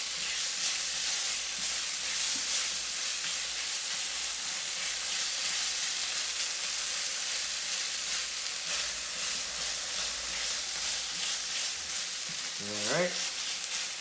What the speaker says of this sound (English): we're gonna stir that together